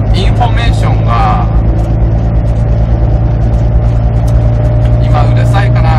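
Subaru WRX STI VAB engine droning steadily at a constant, fairly loud level while driving, with someone talking over it throughout.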